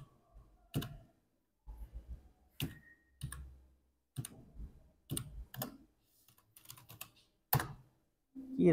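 Computer keyboard typing, scattered clusters of crisp clicks and taps spaced by short pauses, close and quiet in a silent room.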